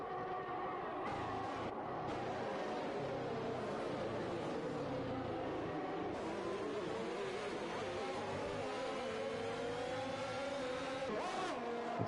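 Formula 1 race car engines in the F1 2021 video game at Bahrain, a steady droning whine of several cars with pitch sweeps as they accelerate and shift, continuous and fairly loud throughout.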